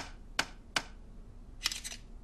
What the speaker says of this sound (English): tap the pull bar with a hammer to pull the boards together